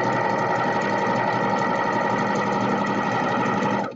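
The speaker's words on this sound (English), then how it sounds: "So keeping my fingers out of the way very slowly, I'm going to overlock along the edge." An overlocker serger runs steadily along a fabric edge, a fast, even mechanical whir and hum that stays close and loud for the whole stretch before easing off right at the end.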